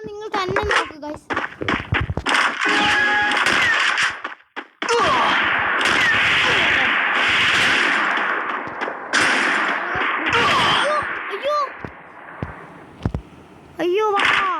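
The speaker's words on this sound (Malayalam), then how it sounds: "ഇതെങ്ങനെ വെടിവെക്കുന്നത് നിങ്ങൾ തന്നെ നോക്കുക" Rapid bursts of gunfire from the Free Fire video game ring out in quick clusters, loud and dense, under a voice talking throughout.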